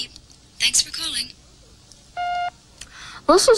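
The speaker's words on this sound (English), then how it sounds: "And remember, wait for the beep." A single short electronic answering-machine beep sounds on its own for about a third of a second. It falls between bursts of nearby talking.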